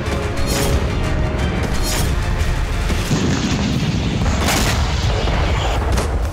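Shelling and missile explosions in the Russia–Ukraine war, a dense barrage of heavy booms and blasts overlapping continuously, loud and rumbling throughout.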